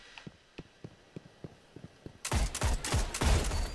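Gunfire in the video game Destiny: a few faint, spaced shots give way to a loud burst of rapid, overlapping shots and heavy blasts.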